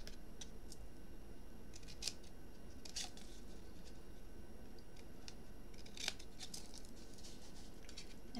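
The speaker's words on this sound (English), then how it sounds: "snip off that little rectangle there" Scissors snipping cardboard to cut a small rectangle from a box, with several sharp crisp snips spaced a second or more apart over a steady low background hum.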